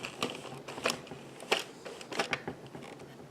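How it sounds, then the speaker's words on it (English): A domestic knitting machine knits a row of a short-row sock, its carriage and needles giving a run of close, dry mechanical clicks and clacks in irregular bursts, with no talking. "I'm going to finish knitting this needle and returning and snugging that stitch up a little bit."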